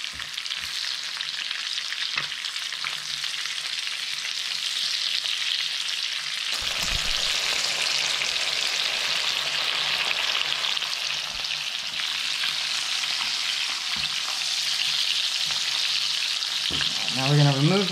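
Halibut fillets with a golden brown crust sizzle and fry steadily in a pan with lemon slices, a loud continuous crackle with occasional utensil clinks and a brief scraping near the end.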